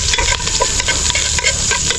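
Filipino home cooking, with ingredients sautéing in a pan: steady loud frying hiss broken by repeated utensil scrapes and stirring clatter, close by with no voices.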